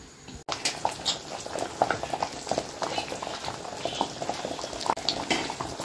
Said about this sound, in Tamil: இந்த கிரேவி வந்து நல்லா கொதிக்க ஆரம்பிக்குது